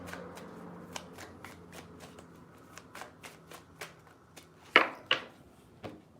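A deck of tarot cards is shuffled by hand in quick, crisp riffles and taps, close and fairly quiet, with a few sharper snaps near the end and no talking.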